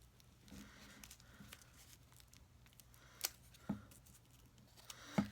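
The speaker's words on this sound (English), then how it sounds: "you cut like a U into the tissue paper" Scissors snipping a U shape into tissue paper for a Valentine's Day craft flower petal, soft crisp cuts and paper rustles with a few sharper snips, quiet and close.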